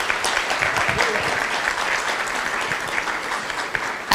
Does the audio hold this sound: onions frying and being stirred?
no